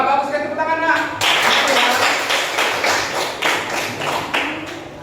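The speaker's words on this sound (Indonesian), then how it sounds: "Wah, bagus sekali, tepuk tangan, Nak" Students in a classroom break into brisk applause for a classmate, a dense burst of clapping that starts after a spoken remark and continues evenly for about four seconds before thinning out.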